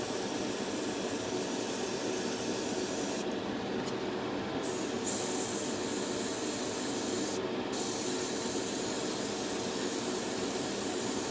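An airbrush or spray can hisses steadily while painting a Revell Colonial Viper Mk. II model canopy, a continuous close, soft rushing spray broken by a couple of short pauses.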